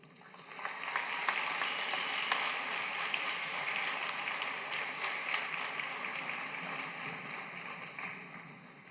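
A large crowd at a high school graduation ceremony for the class of 2026 gives a sustained round of clapping, steady and fairly faint as if heard from a distance, with no voices over it.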